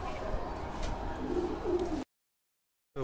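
Pigeons, red Madras birds, coo in a loft at close range. Soft repeated coos sit over a busy background. The sound cuts to near silence, then a new sound starts at the end.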